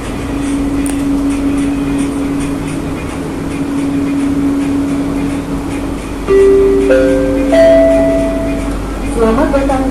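Riding aboard an LRT Jabodebek Bekasi Line train in Jakarta, a steady low cabin rumble and hum runs throughout. Near the end comes a sequence of rising electronic chime tones.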